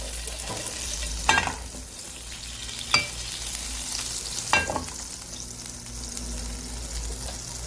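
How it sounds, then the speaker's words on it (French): Butter heats in a frying pan over low heat before pancake batter goes in, making a soft, even sizzle with three brief clicks or taps over it and no speech. "on fait chauffer la poêle à feu doux et on met une petite pointe de beurre"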